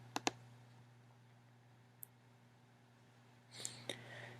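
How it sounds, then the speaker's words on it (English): A few sharp mouse clicks at the start and near the end, quiet and close, with a steady low hum running under them and no talking. "I would click the Create New Glog button here in the middle"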